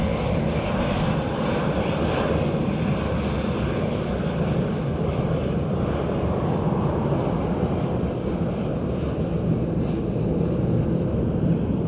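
A heavy airliner arriving at Dublin Airport on a windy morning roars steadily and loudly overhead, a broad continuous jet rumble with wind buffeting, no voices.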